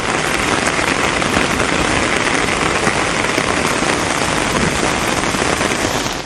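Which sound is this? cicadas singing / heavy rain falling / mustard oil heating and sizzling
heavy rain falling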